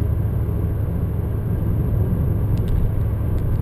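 Holden VF Calais V8 fitted with an M1900 supercharger kit runs steadily close by, a continuous deep engine rumble with a faint supercharger whir on top and no voices.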